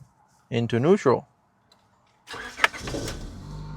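A car with a junkyard replacement transmission starts up after earlier failing to crank, its engine catching and running at close range after a brief spoken voice and a pause.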